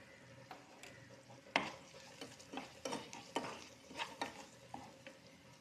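Prawn pickle masala with fried prawns and salt being stirred in a pan, a faint low sizzle under repeated scraping spoon strokes and soft clinks in an uneven rhythm, close and quiet.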